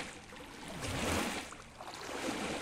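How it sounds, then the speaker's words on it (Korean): A duck splashes in the water of a dark, enclosed swimming pool, a broad, noisy wash of sloshing that swells and fades without voices. "오리가 첨벙거렸나?"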